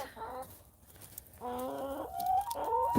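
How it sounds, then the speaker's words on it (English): Several chickens cluck and squawk in bursts close by, with a brief lull between the noisy outbursts and no talking. "There go the chickens."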